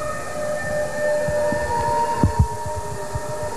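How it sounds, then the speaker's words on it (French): Several steady, overlapping motorcade siren tones hold through the clip outside a cathedral, joined by a dense, irregular low rumble of engines and movement, with a couple of brief louder thumps. "Vous entendez les sirènes du cortège qui arrivent."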